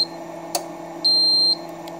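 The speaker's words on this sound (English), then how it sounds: "you hear that first beep" A single sustained high-pitched electronic beep from an Eltek UPS powering on, lasting about half a second, preceded by a faint click, over a steady low electrical hum.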